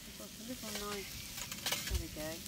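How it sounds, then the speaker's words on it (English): Steady crackling sizzle of a leg of lamb cooking over a fire pit, with faint voices and harmonic murmurs drifting in and out underneath. "You can probably hear the um, the lamb sizzling away."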